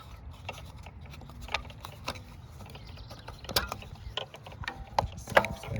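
Plastic clicks and ratcheting snaps as the string spool of a Black and Decker 20V 2-in-1 string trimmer is removed and refitted by one hand, with sharp ticks scattered through the handling and louder snaps near the end.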